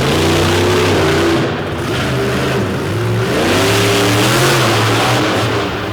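A monster truck powered by a 557 cubic inch Oldsmobile engine revs hard at a live arena show, its loud mid-pitched roar rising and falling in repeated surges as it climbs over crushed cars.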